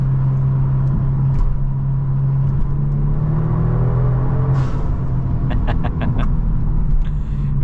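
A tuned 2023 Genesis G70 with an 8-speed automatic and around 450 horsepower drives steadily, its engine droning low and loud inside the cabin with shifting tones, plus a few brief clicks and ticks near the end.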